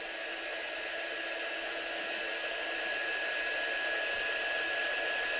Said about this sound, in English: So I'm just heat setting that gold now.